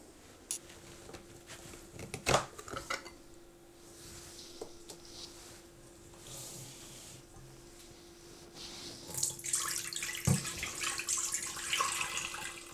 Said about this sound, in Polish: Bierzemy ten garnek i najpierw zlewamy całą zalewę z ogórków do tego garnka.